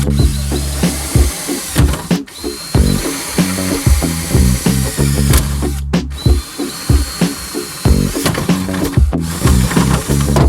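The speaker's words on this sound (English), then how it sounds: "So I'm going to just nibble this away and kind of open that up, drill it out a bit." A power drill nibbles away plastic from a truck headlight housing on a GMT800 Chevy/GMC truck, a loud close whine cutting in repeated short bursts with brief pauses between passes.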